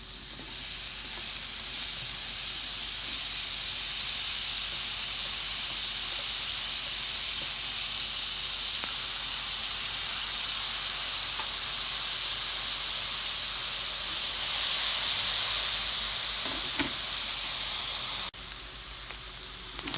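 Leftover steak added to a hot pan with wild mushrooms, a loud continuous sizzle and hiss close up that swells briefly near the end before dropping off.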